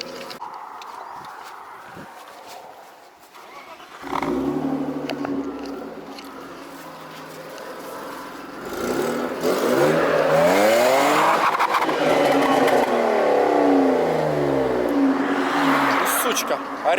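A BMW E34 engine revs hard nearby, heard from outside the car, rising and falling in repeated surges that grow louder toward the end, with people talking over it.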